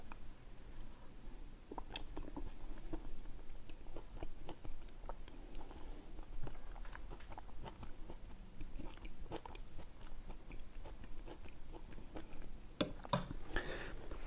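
Close, soft chewing and mastication of a spoonful of kimchi chili, a steady run of wet bites and faint crunches with no talking over it.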